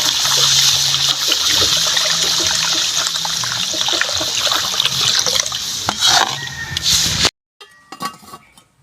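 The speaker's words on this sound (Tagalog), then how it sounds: "Maglalagay na po tayo ng tubig." Water is poured into a cooking pot for Aklan-style bindonggo soup, a steady close splashing rush with faint clinks that runs for about seven seconds, then cuts off to quiet, sparse sounds.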